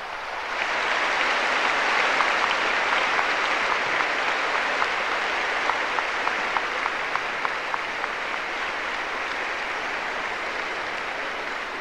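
A standing church congregation applauds at a Catholic service, a loud, sustained wash of clapping that holds steady for over ten seconds with a faint rhythmic clap pattern running through it.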